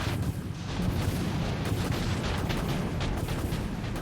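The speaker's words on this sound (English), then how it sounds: "Captain, we've got a lock. Launching torpedoes." Dense, continuous rumbling barrage of booms and blasts from a space combat video game as torpedoes launch and detonate, loud and sustained throughout with no pause.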